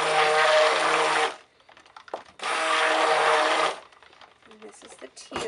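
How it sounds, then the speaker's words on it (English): A stick blender whirs in two loud, close bursts of about a second each while mixing colorant into cold process soap batter, separated by quieter clinks and handling noises. "I'm going to go ahead and stick blend the color, and then I will mix it up with my spatula."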